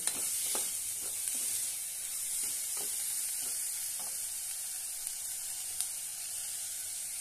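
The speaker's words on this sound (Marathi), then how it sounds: "आता यामध्ये मसूर घालूया, ते पण परतून घेऊया।" Whole masoor lentils being sautéed in a pan, giving a steady close sizzle of frying with faint stirring scrapes and small clicks throughout, with no voices.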